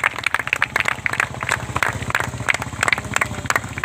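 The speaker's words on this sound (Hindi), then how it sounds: "एक बार जोरदार तालियां।" An audience at a tribute event for the country's soldiers bursts into loud, rhythmic clapping, close and vigorous, continuing steadily without pause.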